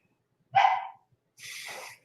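A dog left outside gives a sharp bark followed by a breathy, whining yelp, two short separate bursts heard at moderate distance against silence.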